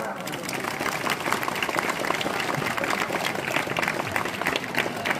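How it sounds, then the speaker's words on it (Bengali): An audience applauds a chhau dance performer at a fair in Gobindapur, with steady dense clapping from a crowd that continues throughout at an even level. "তার জন্য যতক্ষণ তিনি মঞ্চে আসবেন ততক্ষণ যেন হাততালি থামে না।"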